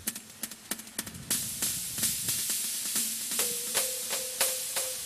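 A drum machine snare at its normal setting: a steady run of sharp, crisp hits, close and fairly loud, with a tonal ring joining the later strikes, with no talking.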